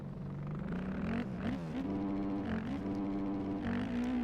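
A 450 dirt bike engine in the MX Bikes racing game drones steadily throughout, its pitch wavering and rising as the throttle is blipped several times, loud and close with no talk over it.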